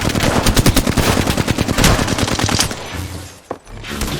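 Automatic gunfire in the Apex Legends video game, a loud rapid burst of shots in close succession that tapers off, followed by a single sharp report near the end.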